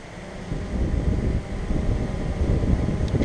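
Strong gusting wind buffets the microphone as a DJI Mavic 2 Pro drone hovers about a foot off the ground, a loud continuous low roar with steady rotor whine underneath.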